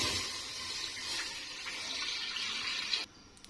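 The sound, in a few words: pouring milk into a cooking pot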